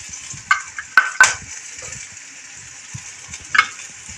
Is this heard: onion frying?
yes